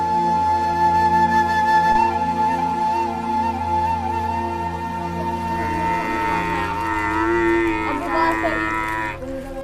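A water buffalo moos loudly and at length, a deep drawn-out bellow that rises and wavers toward the end, with no talk over it.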